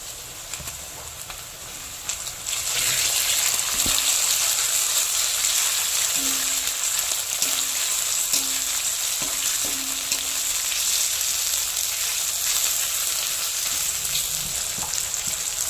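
Onion frying in a pan until golden before prawns go in: a softer sizzle swells after a couple of seconds into a loud, continuous frying hiss with stirring that carries on to the end.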